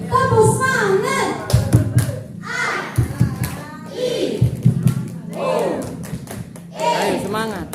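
A group of children in an Indonesian children's forum does the tepuk semangat clapping chant, with rhythmic clap bursts and chanted voices that sound close and loud.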